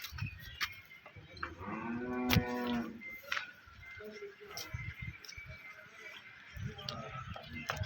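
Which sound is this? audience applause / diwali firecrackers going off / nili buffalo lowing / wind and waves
nili buffalo lowing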